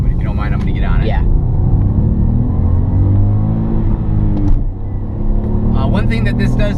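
A Ford Fiesta with a 1.0-litre three-cylinder engine pulls hard under acceleration, its rumbling engine note steady and close inside the cabin, with a voice speaking over it near the start and end.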